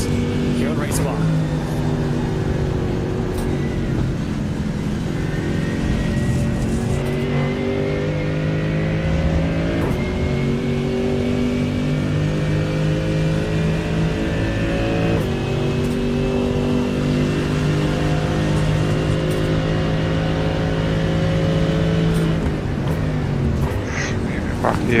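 Race cars in the Brit Car 24h endurance event in iRacing roar continuously, engines droning and shifting pitch as they pass at steady loud volume, with voices talking over the engine noise throughout.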